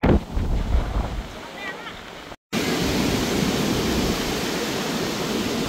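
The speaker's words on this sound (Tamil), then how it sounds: "காத்தடிக்கிற சத்தம் உங்களுக்கு கேட்குதா பாருங்க. அவ்வளவும் காற்று தான்." Strong wind gusting over the exposed summit of Sigiriya rock in Sri Lanka, a loud continuous roaring rush with buffeting against the microphone; a brief voice is heard at the start before a short dropout.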